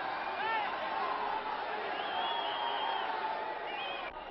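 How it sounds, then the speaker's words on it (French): A live wrestling crowd in a Paris winter circus arena, whistling and applauding in a broadcast recording, a dense roar with shrill whistles rising over it and a commentator's voice running underneath. "le public uni dans le même élan se lève pour siffler d'une main les Robin de la Porte et pour applaudir les Fischer"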